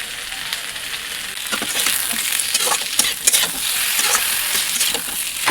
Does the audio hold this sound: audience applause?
no